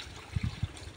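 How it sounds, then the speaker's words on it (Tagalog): Water trickles softly as it is given to cattle to drink, a faint low gurgling with a few small bubbly pulses over quiet background hiss. "Painumin na ito yung tubig."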